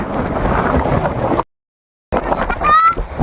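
Strong sea wind buffeting the microphone at Bulacay Beach, loud gusty roar with a brief silent gap, likely mixed with surf and a voice.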